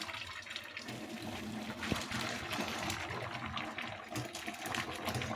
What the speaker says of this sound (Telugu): ఇట్లా వాటర్ని అన్నీ ఇందులోకి తీసేసేయండి.